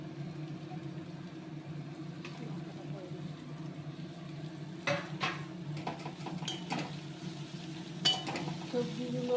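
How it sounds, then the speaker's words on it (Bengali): Vegetables fry in a wok with a low, steady sizzle, joined by occasional scraping and clinks of a utensil against the pan toward the end. "সবজিগুলো ভাজা হয়ে যায়,"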